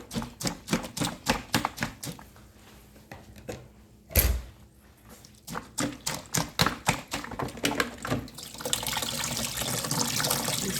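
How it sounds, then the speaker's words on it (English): Watermelon juice pours through a strainer into a bowl, with a run of irregular splashing and dripping taps, a brief louder splash midway, then a steadier wash of liquid toward the end. "You see all that juice coming out? All that is watermelon juice."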